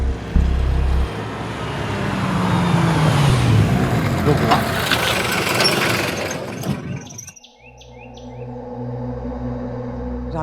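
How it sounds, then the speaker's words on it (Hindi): A car or truck pulls in on a noisy roadway in India, its engine rumbling loud and close for several seconds before the noise cuts out and the scene falls quiet, with faint chirps left behind. "एक गाड़ी आई।"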